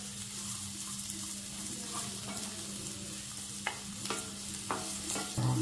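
Raw mango pieces sauté in a pan for chutney with a constant close sizzle. Soft scraping stirs rise near the end.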